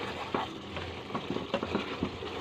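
Spices crackle and fry in hot oil for an egg tarka tempering, a close sizzle with scattered pops and spits over a short span and no voices.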